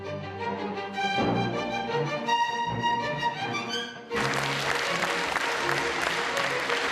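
Concert audience applauding a Korean conductor's 80-piece orchestra in Eastern Europe, with orchestral music ringing out first and then a dense wash of clapping swelling in partway through and continuing loudly to the end.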